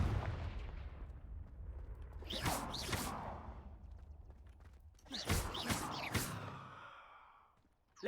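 The Confringo fire spell is cast in Hogwarts Legacy: two clusters of quick blasting bursts with whooshing, crackling tails, fairly faint over a low background rumble.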